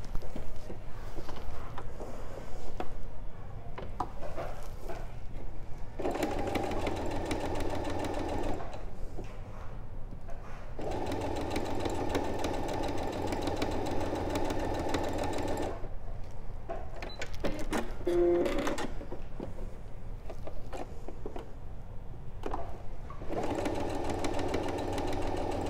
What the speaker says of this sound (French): puis on va venir à la machine coudre de chaque côté